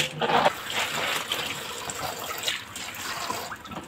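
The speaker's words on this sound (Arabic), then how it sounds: "افتح عليه الحنفيه تاني" Tap water runs continuously from a kitchen faucet onto clams being rinsed of sand, a steady close wash of splashing and trickling with small surges throughout.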